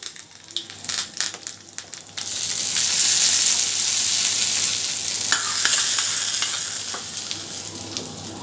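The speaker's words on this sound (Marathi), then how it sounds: "ही मस्त फोडणी ही झाली आहे चटणीसाठी." Mustard seeds and curry leaves crackling in hot oil for a chutney tempering, sharp pops and spatters at first, then a dense, steady loud sizzle with scraping stirs.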